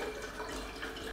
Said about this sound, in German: Und übergieße das mit kaltem Wasser.